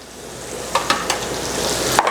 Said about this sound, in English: Just searing some of those juices.